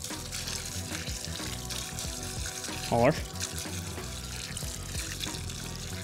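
Water runs from a tap or is sprinkled over freshly planted potatoes, a steady close trickling and splashing under a man's speech.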